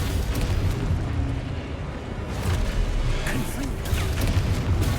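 The Confringo blasting spell goes off in Hogwarts Legacy as a loud, rumbling explosive roar that fills the whole stretch, with bursts of sharper crackle and a voice calling out amid the din.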